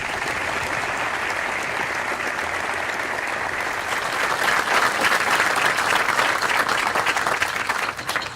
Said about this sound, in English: let's give our awardees a big round of applause